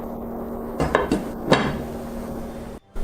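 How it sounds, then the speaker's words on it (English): A metal lid set onto a pot of meatballs simmering on low heat, giving a few close clinks and knocks within about a second over a steady hum, with no voices. "I turn the heat down to low, cover it with a lid, and let it cook."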